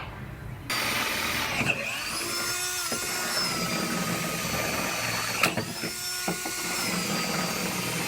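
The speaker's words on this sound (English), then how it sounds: "I got to drill all those out all the way back to somewhere back in here" A power drill whines steadily as it drills out spot welds on a car frame rail, the high-pitched metal grind running almost continuously with a couple of brief pauses and restarts.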